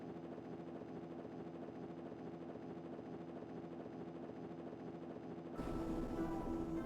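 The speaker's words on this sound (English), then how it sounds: "Their transport chopper is rapidly approaching." A transport helicopter approaches in the Megaman Zero video game: a steady, droning rotor hum holds evenly, then shifts into a louder, rougher texture near the end, with no voices.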